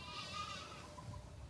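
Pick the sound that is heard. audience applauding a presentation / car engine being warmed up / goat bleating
goat bleating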